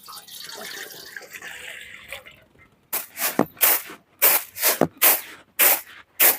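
Water pours in a series of short, splashy bursts after a stretch of soft background noise, each pour loud and close, in a village kitchen while cooking moong dal.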